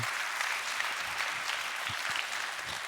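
Applause from a lecture audience fills the space, a dense steady patter of many hands clapping throughout at an even, fairly loud level with no talk over it.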